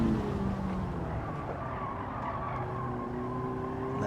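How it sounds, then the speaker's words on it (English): A Honda Civic Type R FL5 braking hard in Gran Turismo 7 on the Nürburgring, with tires squealing in a sustained screech over a steady engine drone and road roar for several seconds. "Right, hard on the brakes."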